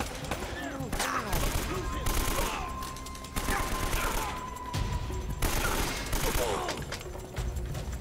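Gunfire in Uncharted: Drake's Fortune comes as loud bursts of rapid shots separated by short pauses over a constant game backdrop, with several distinct volleys in sequence.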